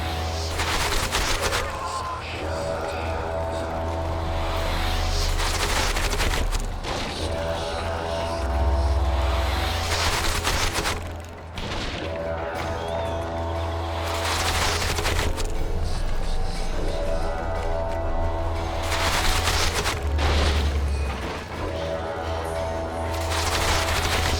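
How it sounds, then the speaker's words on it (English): Gunfire crackles through a battle in The Witcher 2, bursts of shots over a constant low droning rumble, loud and close, recurring in waves throughout. "Take cover! They're shooting!"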